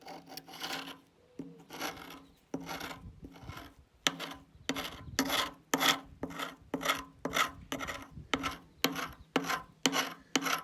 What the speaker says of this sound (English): It scrapes off. Some of it goes almost down to the metal.